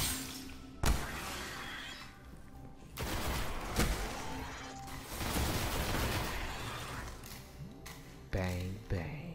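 Gunfire and explosions from the Destiny video game, a dense fusillade of shots and booms running almost continuously, with sharp loud bursts near the start, middle and end, with voices and game sounds mixed in.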